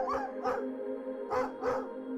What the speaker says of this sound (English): My dog became scared and ran in circles, barking.